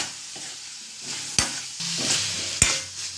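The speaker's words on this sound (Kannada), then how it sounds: "ಕ್ಯಾಪ್ಸಿಕಮ್ ಅಥವಾ ದಪ್ಪ ಮೆಣಸಿನಕಾಯಿ, ಈಗ ಸೌರೆಕಾಯಿ, ಹೀರೆಕಾಯಿಯನ್ನು ಹಾಕಿ ಎಲ್ಲವನ್ನು ಚೆನ್ನಾಗಿ ಬಾಡಿಸ್ಕೊಳ್ಳಿ" Capsicum, ridge gourd and cucumber are sautéed in a pan with a soft steady sizzle, broken by two sharp spoon knocks against the pan amid close stirring.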